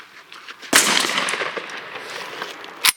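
Shotguns, a D-Doxcarms MX-2 and a DCX-7, are test-fired outdoors: one loud sharp blast with a trailing echo, then a second short report a couple of seconds later.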